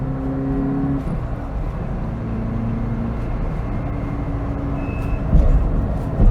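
A flat-four engine in an Alfa Romeo Alfasud Sprint Veloce drones steadily from inside the car on a bumpy road, its pitch shifting slightly as it pulls for an overtake, swelling louder near the end.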